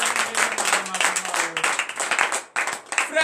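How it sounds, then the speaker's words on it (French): A church congregation at a morning prayer service claps and cheers in acclamation, dense rhythmic hand claps with voices shouting over them, briefly dipping before resuming. "Et donner une vive acclamation à l'Éternel."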